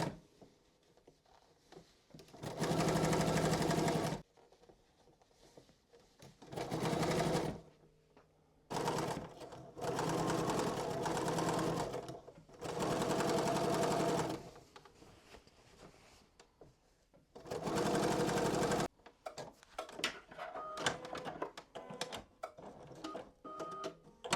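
A sewing machine hems the lower edge of a garment sleeve in six separate loud runs, each lasting one to three seconds, with quiet handling of the fabric between them.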